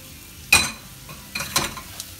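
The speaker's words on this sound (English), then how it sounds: "just sweat your onions in the olive oil" Onions softening in a little olive oil in a pan, giving a soft steady sizzle with a few sharper stirring scrapes, close by and alone.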